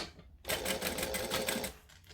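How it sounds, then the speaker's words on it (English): Sewing machine stitching and back stitching a fabric wallet, a close, fast rattling run of needle strokes that starts abruptly, holds for just over a second, then slows and stops. "So we're going to stitch and back stitch, stitch along"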